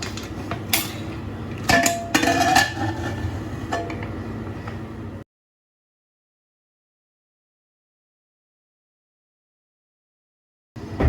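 A large pressure cooker being opened after cooking a milky pink broken-wheat payasam, with close metallic clanks and clinks of the lid and pot for about five seconds, then silence, and a brief clatter again at the end.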